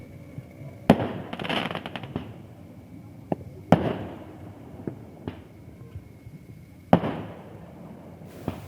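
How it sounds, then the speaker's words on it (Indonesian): Scattered New Year's midnight firework bangs and crackles go off in the distance during a family camping trip, a few sharp pops spaced out over quiet background. "kita lihat udah ada 1-2 kembang api yang meluncur"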